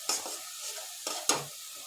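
Spices with turmeric powder and a little water being sautéed in a pan for a pomfret and potato curry, a soft sizzle with a few sharp scraping stirs, brief and fairly quiet.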